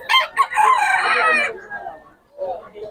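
A rooster crows loudly and close by, a long strained call, followed by softer clucking and another brief crow starting near the end.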